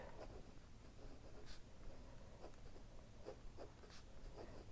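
A stiff-nibbed pen scratches faintly across paper in short, irregular strokes, very quiet and close, with no voices.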